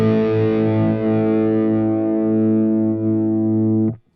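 Sustained electric guitar chord through a Quad Cortex amp capture with distortion, ringing loud and steady for about four seconds before being cut off abruptly.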